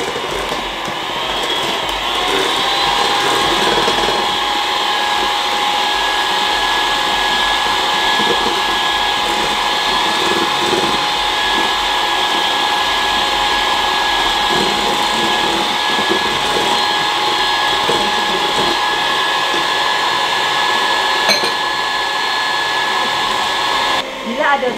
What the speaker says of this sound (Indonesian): Kalau sudah tercampur, boleh kita tinggikan speednya ya. Kita kocok sampai kaku